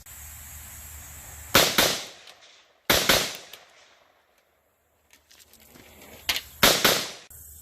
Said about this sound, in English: we just saw the 300 blackout AR pistol in action with the James Madison Tactical drop-in trigger